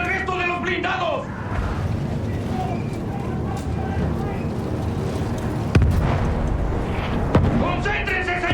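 Battlefield 1 war battle with cannon fire and explosions: deep rumbling booms and a couple of sharp blasts roll under shouting soldier voices and a steady din of combat.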